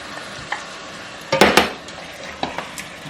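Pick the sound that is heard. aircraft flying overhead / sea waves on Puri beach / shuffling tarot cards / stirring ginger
stirring ginger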